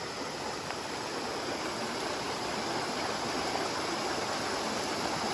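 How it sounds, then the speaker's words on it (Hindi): A waterfall pours into a river in Uttarakhand, a dense, steady roar of rushing water filling the whole clip at an even level, with no voices. "ये है वाटरफॉल।"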